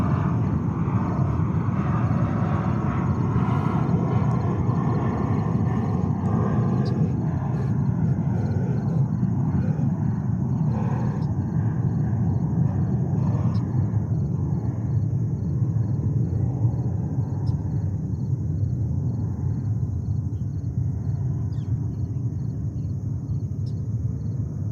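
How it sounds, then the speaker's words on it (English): An ASL Airlines cargo jet arriving from Anchorage rumbles past at JFK airport with a loud, steady, broadband engine roar. The sound holds for the whole stretch and fades slightly toward the end, with no voices. "ASL Airlines coming in from Anchorage,"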